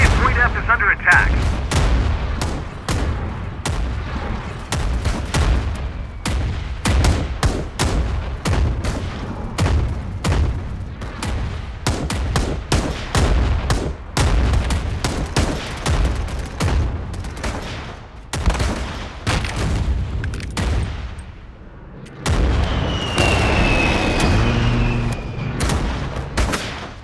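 Heavy incoming enemy mortar fire and gunfire in the Crowz multiplayer shooter: rapid, loud blasts and shots repeat across the whole stretch, with a radio-style voice announcing alerts near the end.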